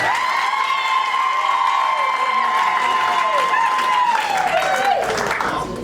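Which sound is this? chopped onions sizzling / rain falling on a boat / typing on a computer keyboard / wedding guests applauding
wedding guests applauding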